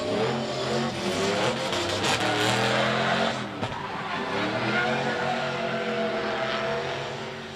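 Drift cars battle at Meremere Drift, engines roaring at high revs with tire squeal and skidding, a loud, sustained, close wall of noise that dips briefly midway before surging again.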